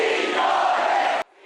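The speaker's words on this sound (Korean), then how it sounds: "선수단 버스가 도착하자 하늘에선 폭죽이, 땅에선 환호성이 터졌습니다" Football fans roar and cheer loudly as their team's bus arrives at the hotel in Guadalajara, Mexico, a dense sustained crowd shout that cuts off abruptly near the end.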